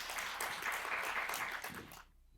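Audience applause greets a Seoul city administrative director at a local business results-sharing event, a dense patter of clapping that holds steady before cutting off abruptly near the end.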